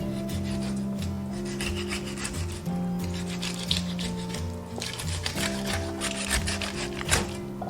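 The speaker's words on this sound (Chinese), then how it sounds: "把这个鱼肉给它片出来。" A knife draws along a Spanish mackerel, slicing the flesh off the bone in continuous rasping, rubbing strokes, close and steady, with no talk over it.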